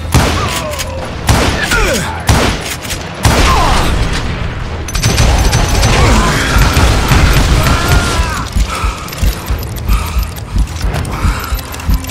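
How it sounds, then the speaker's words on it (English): Gunfire from the Western video game Call of Juarez: Gunslinger, a heavy barrage of close, loud shots and booms with metallic clatter, continuing without letup throughout. "a fusillade of bullets come raining down from on high"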